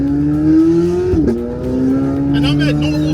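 Loud sports car engine, a Corvette C8 Z06 or Porsche 911 GT3, drops pitch sharply on a downshift, then carries on with a lower engine drone as a voice talks briefly near the end.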